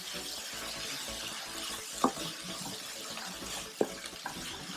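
Chopped fresh coriander sautéing in a pan over a medium flame, a steady close hiss and sizzle with a couple of sharp stirring scrapes and no talking.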